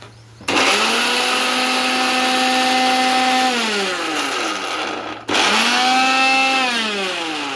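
A kitchen mixer grinder whirs loudly while chopping ginger, green chillies and washed coriander, running in two close bursts with a brief stop between them and the motor pitch dropping as each run winds down.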